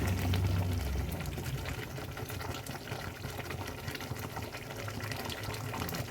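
Egg korma gravy simmers in a pan with a close, continuous bubbling and spattering hiss that stays even throughout, with no one talking.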